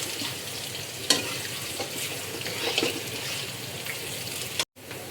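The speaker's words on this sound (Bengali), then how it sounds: "মাছ ভাজার যে তেলটা, সেই তেলের মধ্যে আলু দিয়ে দিব।" Sliced potatoes fry in leftover fish-frying oil in a home kitchen, giving a soft, steady sizzle with a few louder clinks of stirring, fairly quiet throughout.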